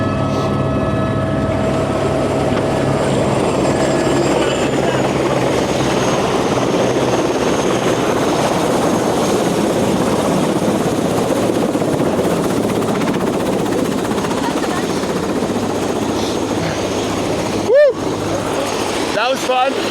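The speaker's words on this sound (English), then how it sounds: "we caught the small helicopter, which brings us from the high altitude down to a lower altitude" A small helicopter in flight makes a steady, dense rotor and turbine roar that holds loud and constant from start to finish, with a brief sharp knock near the end.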